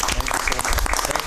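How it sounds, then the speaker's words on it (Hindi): A studio audience on a Pakistani TV comedy show claps for a singer in a short, lively burst, with voices mixed into the applause. "एक जोरदार तालियां"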